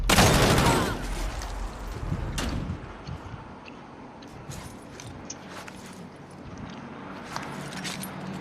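Video game gunshots fire in a burst of loud rapid cracks at the start, followed by scattered fainter shots and impacts over a low rumbling game soundscape.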